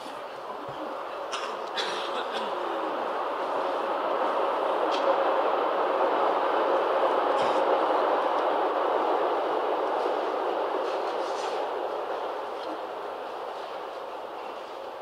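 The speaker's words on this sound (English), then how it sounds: "the train." A train passes by as a broad rushing roar that swells and then fades over several seconds, with a few faint clicks and knocks on top and no talking.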